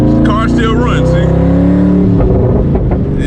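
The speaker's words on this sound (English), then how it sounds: "The car still runs, see?" A twin-turbo Boss 302 Mustang engine runs loud and close, with a lumpy, pulsing idle, brief revs and some turbo whistle, and someone talks over part of it.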